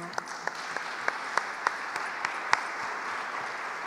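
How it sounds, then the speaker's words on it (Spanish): Audience at a community singing gala gives faint, distant applause, a soft steady patter with a few sharper individual claps over about four seconds. "qué te parece si no le damos un aplauso"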